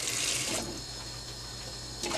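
Two cups of water are poured into a pot for cooking sticky and brown rice, a steady close splashing rush that softens in the middle and swells again at the end.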